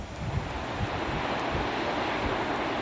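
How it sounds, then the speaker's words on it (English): Rough ocean surf from Hurricane Bertha at Nags Head in 1996, seen close up, with a steady roar of breaking waves under heavy gusting wind noise on the microphone, loud and continuous throughout. "Close-up views of the waves."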